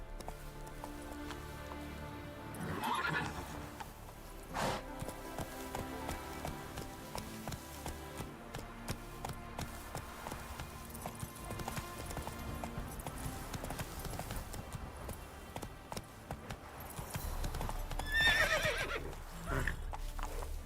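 Roach, a horse in The Witcher 3, gallops with steady rhythmic hoofbeats and neighs loudly near the end, over game music and ambient sound.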